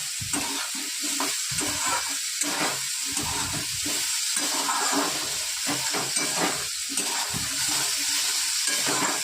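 Pumpkin pieces fry in a pan for a home-style Bengali dish, giving a steady, continuous sizzle close by, broken by repeated stirring scrapes and soft clatter, with no voices.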